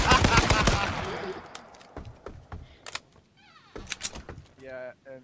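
Rapid bursts of gunfire in the video game H1Z1 King of the Kill, a dense loud volley at first, then scattered single shots and clatter, with brief mechanical effects near the end.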